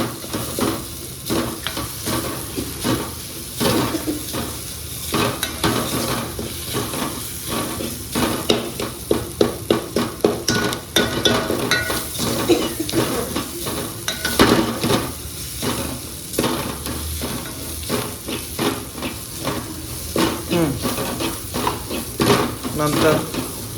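Fresh grated coconut is roasted in a pan for sambar and stirred nonstop for almost half a minute. A spatula scrapes and clacks against the metal in a quick, steady rhythm over a low sizzle, with a little background noise.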